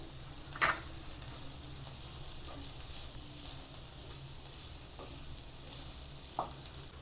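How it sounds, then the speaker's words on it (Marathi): Capsicum and corn sauté in a pan for paneer corn paratha, a soft continuous sizzle with a few brief clinks of a spoon stirring against the pan, no talking. "चांगले परतूया."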